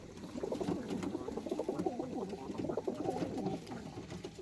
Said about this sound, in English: And these are the birds in the kit box.